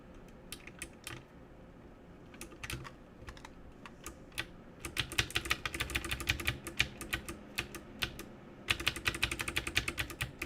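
Clicky switches clatter on a modded GK61 hot-swappable mechanical keyboard, first in scattered keystrokes, then in dense, rapid bursts of close, crisp typing with short pauses between runs.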